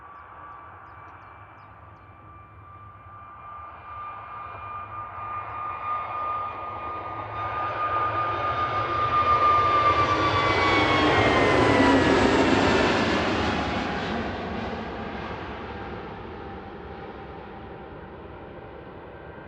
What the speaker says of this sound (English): EasyJet from Dalaman landing alongside.